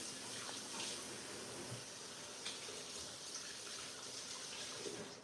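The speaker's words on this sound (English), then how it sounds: "I'll wash my hands because they've got a little bit of butter on it" A tap runs steadily as hands are washed beneath it, a soft even rush of water with faint splashes, fairly quiet and unbroken throughout.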